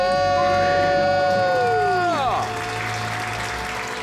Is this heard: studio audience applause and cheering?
yes